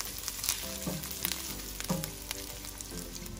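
Onions and ginger garlic paste sizzle steadily in a hot pan for street-style pav bhaji, a constant close frying hiss with a few soft stirring scrapes.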